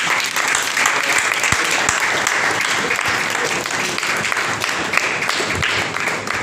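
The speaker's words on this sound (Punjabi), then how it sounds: "ਅਸੀਂ ਜ਼ੋਰਦਾਰ ਤਾੜੀਆਂ ਨਾਲ" Loud, dense applause from a congregation inside a church, many hands clapping together in a continuous, even roar with scattered sharper claps standing out, no pauses.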